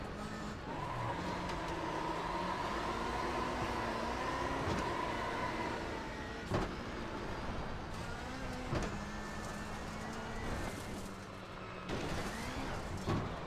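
Subaru WRX STI rallycross car in the iRacing sim, its engine droning steadily throughout with shifting pitch as revs rise and fall, punctuated by sharp gear-change blips; loud and close with no talking.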